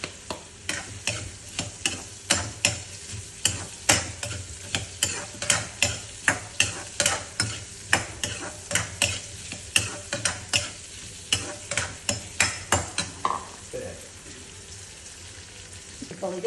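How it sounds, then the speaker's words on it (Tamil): Raw mango pieces fry in hot oil for a quick South Indian pickle, a loud ongoing sizzle broken by regular scraping stirs of a spoon against the pan that stop near the end, with no talk. "எண்ணெய் காஞ்சி எடுத்து இப்போ மாங்காய் போடுறேன்."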